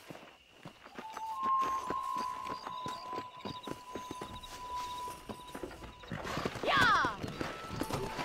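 Horse hooves clip-clopping at a quick, even pace in the Western game Red Dead Redemption, with a neigh near the end, game music and a shout of a voice over the ride.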